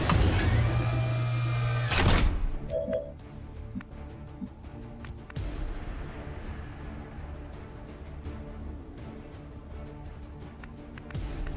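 In XCOM 2: War of the Chosen, a grappling hook is fired with a loud mechanical whir that cuts off sharply, then faint clanks and the hum of game ambience follow.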